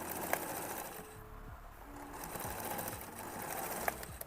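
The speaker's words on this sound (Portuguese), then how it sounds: "E eu vou ir só unindo pedacinhos nele e costurando." A sewing machine stitching scraps of denim together runs in a steady close mechanical whir with rhythmic needle clatter, briefly slowing midway and then picking back up, with no talking.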